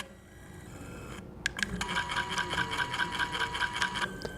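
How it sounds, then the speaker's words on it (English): Stepper motor of a Pro Trim Elite automatic scissors trimmer running, giving a quiet, rapid series of evenly spaced clicking pulses with a thin whirring tone, starting after a brief sharp knock. "That noise sounds bad. Don't worry about it. It's not bad. That is the stepper motor."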